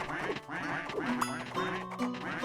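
Ducks quack repeatedly in a real-time strategy video game, a dense overlapping flock of nasal calls piling up over busy game sound, steady and fairly loud throughout.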